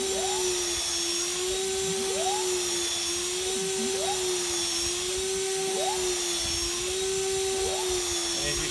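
A powered reamer whines steadily while clearing out material with a high rubber content, its pitch wavering in a regular rise-and-fall cycle about every two seconds, loud and close with no talking over it.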